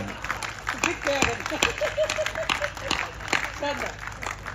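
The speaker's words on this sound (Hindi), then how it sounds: "बेहतरीन बजाइए तालियां।" An audience at a Hindi poetry recitation claps in a scattered, moderately faint round of applause, with uneven individual claps and some voices mixed in over a few seconds.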